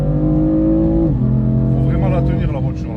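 A BMW M4 accelerates hard with loud, close engine harmonics climbing steadily before dropping at a gear change around one second, then pulling again through a continuous roar, while someone talks over it.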